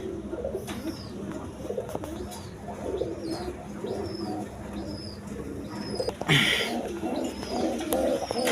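A pair of pigeons coo in repeated soft, rolling calls close by, with a few chirps and faint background noise.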